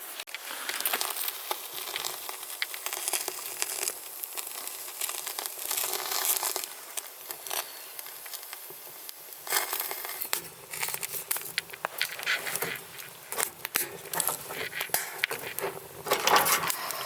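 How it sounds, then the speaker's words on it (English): A wood stove is being lit inside a hot tent on an icy winter morning, with close crinkling, rustling and snapping of kindling and paper crackling in uneven bursts, along with occasional handling noises. "So I'm getting the stove going."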